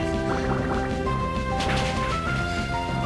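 Water Gun attack effect from the Pokemon Emerald video game, a bubbly gurgling water burst layered over looping game music, steady and loud throughout.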